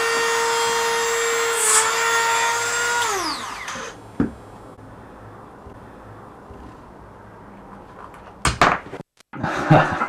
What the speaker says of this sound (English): a razor saw attachment on a mini drill.